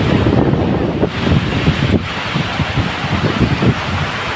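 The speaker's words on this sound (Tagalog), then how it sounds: "Lumakas ang hangin. Kala ko wala." Strong typhoon wind buffeting the microphone in continuous heavy gusts, a dense roaring rush with no pauses.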